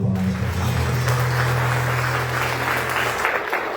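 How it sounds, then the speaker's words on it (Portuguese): A congregation at a special Mother's Day Mass claps steadily and loudly, with a low sustained hum running beneath the applause until it trails off near the end. "Dá uma salva de palmas"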